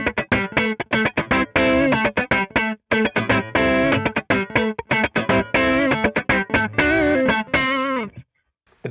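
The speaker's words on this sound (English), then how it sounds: "Great overdrive, gives you that bite, sort of cranked amp sort of thing too." Electric guitar driven through an overdrive from the Cory Wong Archetype plugin, crunchy and biting like a cranked amp, playing a busy rhythmic passage of choppy chords and single notes, loud and alone, ending with a brief ringing tail.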